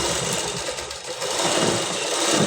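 A sewing machine runs steadily while stitching a blouse, a continuous dense mechanical whir that holds at an even level throughout with no voices.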